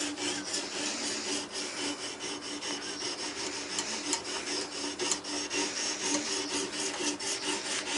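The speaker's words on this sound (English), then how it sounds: "put the stone to the knife and work it in a forward and backward motion" A knife is drawn forward and backward across a sharpening stone in a steady, rasping stroke rhythm, close and fairly loud, with no speech throughout.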